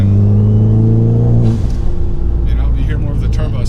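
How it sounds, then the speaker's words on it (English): An Abarth 500 engine revs with a strong droning rumble, then drops off and settles into a lower growl with short bursts over it, close and loud. "you hear more of the turbo sounds"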